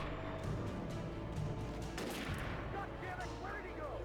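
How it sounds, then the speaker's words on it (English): Gunfire aimed at the player in the video game Alan Wake crackles in dense bursts within a loud, continuous wash of game noise, and a voice speaks over it. "Dude, they're firing at me."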